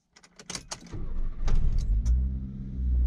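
A Subaru Sambar van's engine cranks briefly and catches on a cold morning, then settles into a steady low idle; key and handling clicks come first, all close by.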